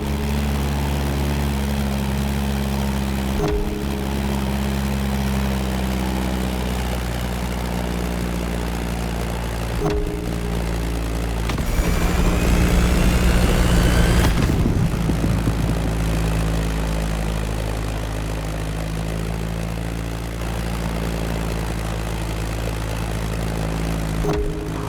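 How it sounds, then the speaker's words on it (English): A Beechcraft Staggerwing propeller biplane drones steadily in a game, its engine a loud, continuous hum that swells briefly as it passes close, then settles back to an even tone. "That Beechcraft Stagger Wing is truly a beautiful piece, isn't it?"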